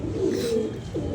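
A pigeon, one of a loft's birds, coos in a short, close, throaty rumble that swells and dips over about a second.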